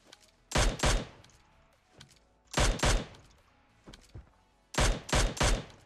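Bursts of gunfire from PUBG Mobile in a Military-map bridge ambush, loud sharp volleys in clusters of two or three shots with pauses between, alone without talk.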